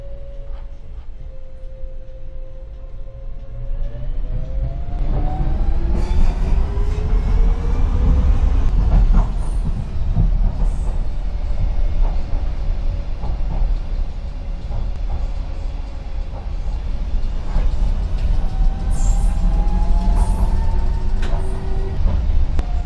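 A tram in the Roblox game Bathwick & Somerset rolls along with a loud low rumble and rising electric motor whine, a steady mechanical drone with brief brake hisses, no voices.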